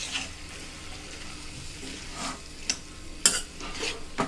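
Chopped small tomatoes for tomato pachadi are stirred in a frying pan over a quiet background sizzle, with scattered scraping strokes and a few crisp clinks of the spoon against the metal, nobody speaking.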